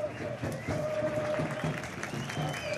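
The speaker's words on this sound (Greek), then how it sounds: "κερδίζει και το χειροκρότημα από τον κόσμο" A football crowd at a Greek Super League 2 match between Makedonikos and Iraklis applauds as a player gets back up, a steady patter of clapping heard beneath continuous commentary.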